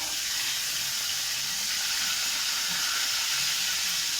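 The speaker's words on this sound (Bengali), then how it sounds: "আমি আর একটা মাছ দিয়ে দিলে এরকম করে সব ভাজবো এক এক করে" Fish pieces frying in oil in a pan, a continuous soft sizzle and hiss with faint crackles, steady throughout and with no talk.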